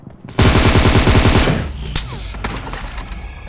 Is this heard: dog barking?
no